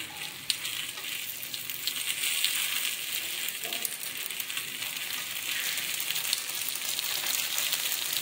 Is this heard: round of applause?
no